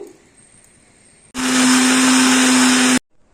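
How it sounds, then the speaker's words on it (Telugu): A mixer grinder whirs loudly at high speed as it grinds whole spices such as cashews, pepper, cloves, cinnamon and coriander into a fine masala, starting abruptly after a quiet stretch and cutting off sharply. "మొత్తం అన్నీ గ్రైండ్ చేసి పెట్టుకోవాలి"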